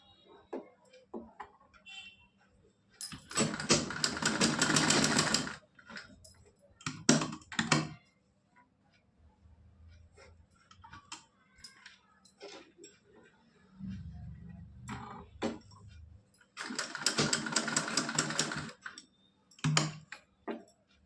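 A sewing machine runs in two sustained bursts of rapid stitching on a Laddu Gopal doll's kurta-dhoti dress, broken by short clicks and handling noises, close and fairly loud with no talk over it.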